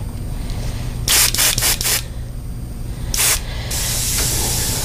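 An airbrush sprays paint onto a yellow perch fishing lure in short hissing bursts, four quick sprays followed by a longer one and then a sustained high-pressure hiss, close and loud with no talking.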